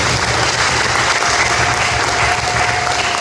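Sustained audience applause at a Rwandan Christian gospel gathering after a singing performance, a dense, steady clapping roar that stays loud and even from start to finish with no break.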